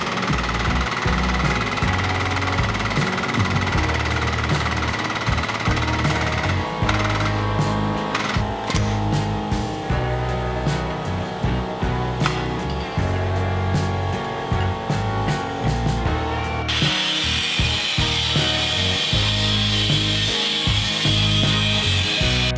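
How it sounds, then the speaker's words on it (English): Pro Tools tube bender working 1-inch steel tubing for a roll cage harness bar on an offroad buggy, steady mechanical grinding and creaking throughout, loud and continuous with no talking. "We'll use our Pro Tools bender and some 1-inch tubing, and we'll just kind of bend up a bar"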